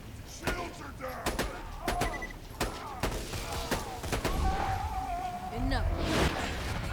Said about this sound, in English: Let's use the sniper for these guys.